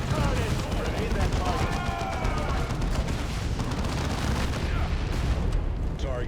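Gunfire in the Warhammer 40,000 Dawn of War video game, a dense, continuous rattle of shots and bursts with booming impacts throughout, with battle voices heard over the din.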